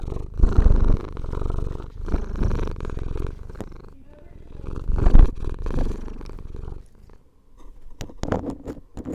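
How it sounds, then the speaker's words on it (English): A cat purrs close to the microphone in a loud, rough, pulsing rumble that swells and fades in waves with brief pauses, along with a few light rustles and taps. "We'll go record the cat."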